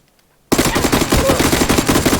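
Sustained automatic gunfire in the battle-royale video game PUBG, a loud rapid burst of shots that starts abruptly after a short silence and continues steadily to the end.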